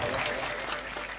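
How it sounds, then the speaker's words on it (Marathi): Applause from the audience at a comedy kirtan for a girls' bhajan group, a continuous wash of clapping heard briefly under a general crowd murmur. "उत्कृष्ट अशा कन्या मंडळ या भजनी मंडळासाठी एकदा जोरदार टाळ्या वाजवा"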